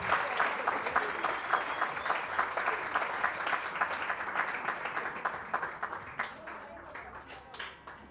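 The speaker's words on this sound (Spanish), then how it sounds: "le brindamos un fuerte aplauso" Applause at a quinceañera celebration honoring the families, a sustained crowd of hands clapping with a distinct pulsing rhythm that gradually thins and softens toward the end.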